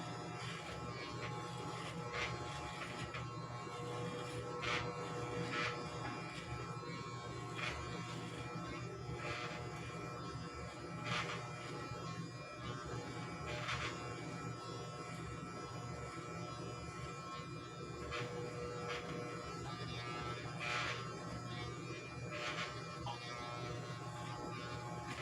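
An electric razor buzzes steadily through a long stretch of shaving, a faint continuous hum with intermittent scratchy strokes and no talking.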